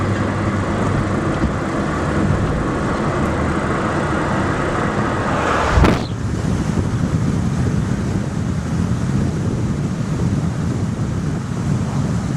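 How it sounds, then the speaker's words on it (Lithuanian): Steady wind roars over a seaside spot in Port Elizabeth, South Africa, with a broad wash of surf underneath. There is one brief thump near the middle and no talking. "čia Pietų Afrika, Port Elizabetas, prie jūros"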